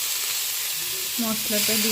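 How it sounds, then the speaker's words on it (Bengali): Spice masala hits vegetables frying in oil for a spicy snail curry, producing a steady close sizzle throughout, while a voice speaks over it in the second half. "মোটামুটি সবজিগুলো হালকা লাল করে ভাজা হয়ে গেছে। এবার মশলাটা দিয়ে"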